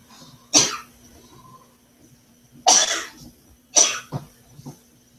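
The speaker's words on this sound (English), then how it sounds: "Let it cough it out. Don't hold it back. Cough it out." Three separate harsh coughs, close and loud, with a brief follow-up cough after the last, separated by quiet pauses.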